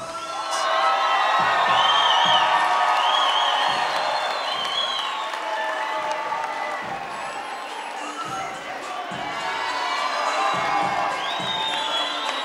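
A boxing arena crowd in Tijuana, Mexico cheers for a fighter after a bout: sustained roaring applause with shouts and whistles rising and falling throughout, loud and steady, with an announcer's voice faintly mixed in.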